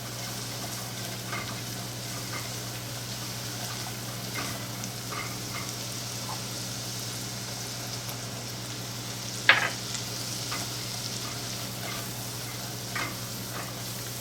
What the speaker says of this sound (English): We're just going to let this flour cook for about a minute so that it doesn't make our sauce pasty.